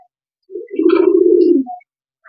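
A single racing pigeon gives one close, clear, low cooing call lasting about a second, alone and without talk.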